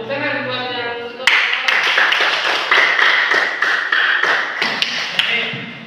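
After a brief spoken instruction, a classroom of students claps in a civics lesson, a lively burst of quick, uneven hand claps that holds for several seconds before tapering off.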